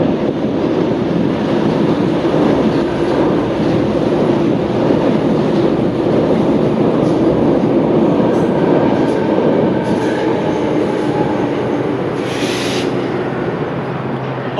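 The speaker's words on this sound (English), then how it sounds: "That's the main train line going over the Cooks River." A loud, steady rumble of a train on the main line crossing a bridge over the Cooks River in Sydney, with continuous rattling and roaring throughout and no voices.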